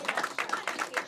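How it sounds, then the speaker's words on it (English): Audience applause at a magic show welcoming a volunteer onstage, a short burst of dense, steady clapping at close range. "Give her a big round of applause"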